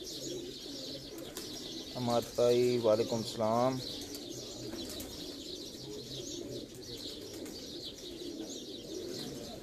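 Racing pigeons coo on a rooftop during a one-day pigeon racing tournament, a burst of clear rolling coos near the start with softer chirps after, while someone talks over the scene.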